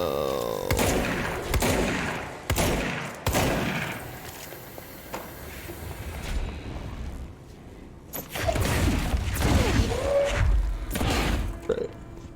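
Gunfire in the video game Control comes as a series of loud, sharp broadband bursts and volleys spread across the span, with rumbling blasts and a brief quieter lull in the middle.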